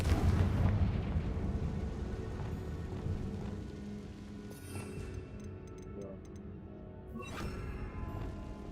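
A Confringo fire spell in Hogwarts Legacy lets off a burst of booming blasts and rumbling, then crackling and ticking effects that fade with a few sharp magical chimes.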